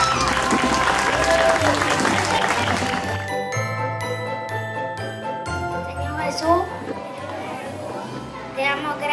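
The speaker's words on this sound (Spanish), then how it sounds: "yo quiero invitar con un aplauso de ustedes y una fuerte bulla" Applause from an audience at a children's Christmas celebration in Buenos Aires welcoming Santa Claus, loud in the first few seconds and then fading under music with jingling bells and crowd chatter.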